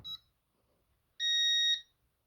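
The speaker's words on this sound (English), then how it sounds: "Police alarm" A Concord 4 security panel sounds its police alarm: a faint short beep, then a single loud, steady high-pitched electronic tone lasting about half a second before cutting off into silence.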